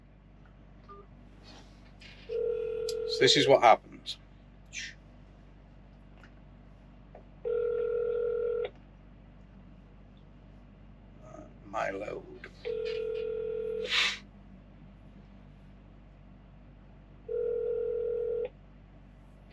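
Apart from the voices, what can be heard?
telephone call dialing and ringing to TQL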